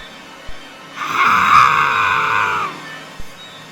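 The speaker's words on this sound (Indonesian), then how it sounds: "Sosok itu langsung berteriak dan turun melayang dengan cepat" A ghostly creature lets out a long, loud, high-pitched wailing scream. It lasts close to two seconds and is framed by faint thuds before and after.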